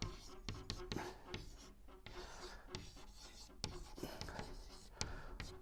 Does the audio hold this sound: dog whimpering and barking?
no